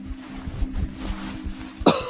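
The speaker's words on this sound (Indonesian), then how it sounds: "Batuk ya?" A low hum fills the background, then a single sharp cough bursts out near the end, close and fairly loud, in an ASMR doctor roleplay.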